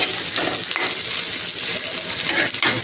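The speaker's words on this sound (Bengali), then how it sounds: "এখন আমি একটু বাগার দিয়ে নিব। এই দেখেন, রসুন, পেঁয়াজ" Garlic, onion and a dried chili temper in hot oil for a fish-head curry, making a loud, close, continuous sizzle with occasional stirring scrapes and small clinks.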